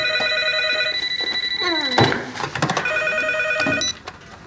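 A telephone rings in a room, its bell-like trill repeating in short bursts, pausing for a moment and then ringing again, clear and fairly loud, with a brief clatter as it nears its end.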